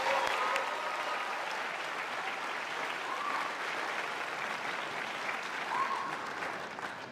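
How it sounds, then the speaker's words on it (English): Audience applause after a university choir performance at a University of Johannesburg evening event, sustained, even clapping from a large crowd heard at a moderate distance, fading slightly toward the end with no voices over it. "another round of applause."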